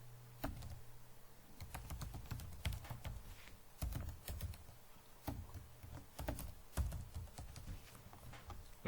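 Someone types an email address on a computer keyboard, a close, irregular run of crisp key clicks and taps with short pauses between bursts, over a faint low hum.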